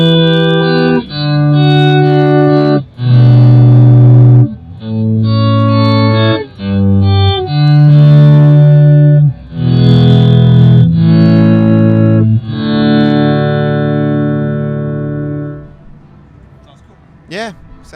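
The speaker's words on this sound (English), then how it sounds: "we're going to have little volume swells. The whole chord doesn't reattack." Distorted guitar chords through an Electro-Harmonix pedal in poly mode swell up in volume without sharp attacks, several in a row, each fading in smoothly before the sound trails off at the end.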